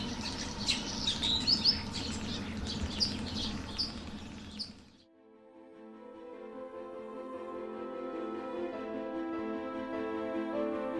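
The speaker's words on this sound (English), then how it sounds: "Thousands of starlings move as one flowing entity." A large evening flock of starlings gathering at twilight in Britain, a dense wash of chirps and twittering calls with rushing wing noise for about five seconds, then a soft, steady tonal music-like hum takes over.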